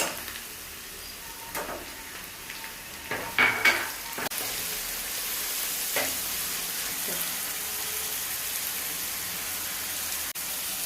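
Chopped tomatoes hit reddened onions frying in a pan for a whole masoor dal dish, giving a steady, broad sizzle that runs the whole time, with a few scraping stir clicks near the start and no one talking.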